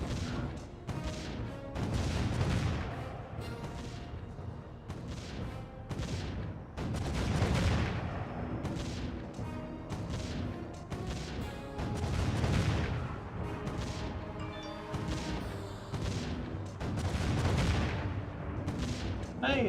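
Towers fire in the video game Defense Grid, with heavy bursts of gunfire returning at regular intervals over a constant busy wash of game sound.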